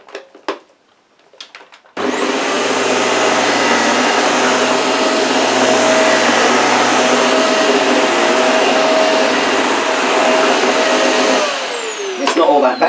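A Vax vacuum cleaner switches on after a few light knocks and runs with a loud, steady whirring roar for about nine seconds, then winds down as its pitch drops.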